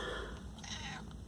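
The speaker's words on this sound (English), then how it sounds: "There's my cat in there." A cat meows inside a first-generation Toyota 4Runner with 260,000 miles, its faint, drawn-out cries heard from nearby over a low, steady background rumble.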